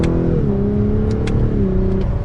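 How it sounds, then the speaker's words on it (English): A 2022 Lexus LS 500 engine hums steadily from inside the cabin during a downshift, its tone dropping in pitch then holding a loud, even drone with light road noise beneath and no talk. "You can hear the engine a little bit, obviously, on a downshift."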